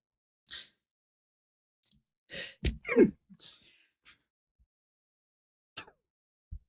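A single sharp sneeze with a quick intake of breath before it, surrounded by quiet with a few soft breaths and small noises.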